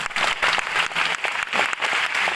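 Audience applause during a Hindi motivational talk for students, a dense continuous clatter of many hands clapping together, steady and fairly loud throughout with no voices over it.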